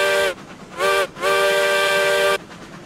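Steam locomotive Ruby Red in the video game RailRoads Online sounds its whistle as it arrives, three loud, clear harmonic blasts, two short and one long, with a low rumble between them.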